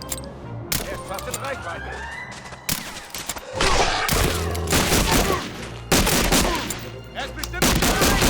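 Gunfire rings out in the video game Medal of Honor Warchest: loud, sharp shots and rapid bursts crack over one another almost without a break, with brief pauses between volleys.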